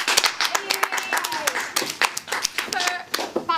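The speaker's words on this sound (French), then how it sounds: "je vous demande d'applaudir Pamela Sou" An audience at a secondary-school theatre show claps in loose, uneven bursts of individual hand claps, close and lively, with a few voices underneath.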